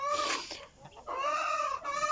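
A hen gives clucking calls in two clear bursts with a short pause between, close by and alone with no talk.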